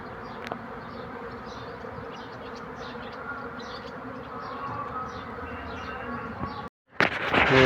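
Dense buzzing hum of a honeybee swarm clustering on a hive frame after removal from a tree, steady and close for most of the clip, cut by a brief gap and a louder burst of handling noise at the end.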